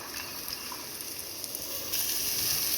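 Chopped carrot, capsicum and beans frying in a pan for fried rice give a steady, fairly loud sizzle that swells near the end, with no talking.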